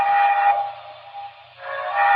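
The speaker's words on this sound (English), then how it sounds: "That's a UP5 chime." A recorded UP5 chime train whistle gives a loud, sustained multi-note blast that fades briefly in the middle and then swells back to full strength, heard alone.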